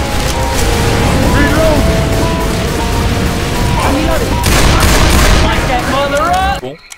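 Dense, continuous gunfire from Left 4 Dead 2 rattles loud and close, volleys overlapping with booms and mechanical clatter as players speak over it, cutting off abruptly near the end.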